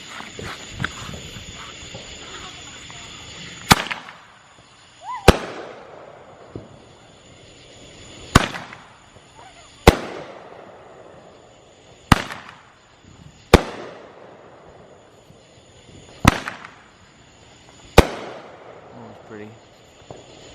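An 8-shot Hillbilly Lunatic firework cake at a Fourth of July backyard show fires eight sharp, loud reports spaced a second or two apart, each followed by a crackling decay.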